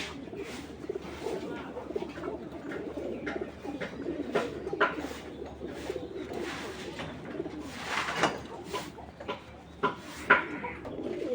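Racing pigeons coo softly in a loft, low rolling calls repeating over a murmur of background noise and faint voices.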